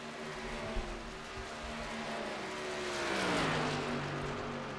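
Race cars at speed on an oval track, a steady engine drone with a distant car rising and falling in pitch as it passes, faint and a little muffled.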